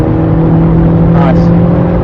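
A car accelerates out of a corner at Brands Hatch Indy circuit during a track session, its engine a steady close drone that swells briefly as the throttle opens, heard from inside the cabin.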